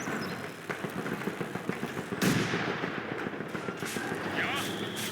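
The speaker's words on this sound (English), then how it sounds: "Mortar Team, drop some smoke." Mortar team firing smoke rounds in the Company of Heroes 2 strategy game, blasts and booming shots over battle noise, with one sharp heavy report midway amid ongoing combat rumble and faint unit voices.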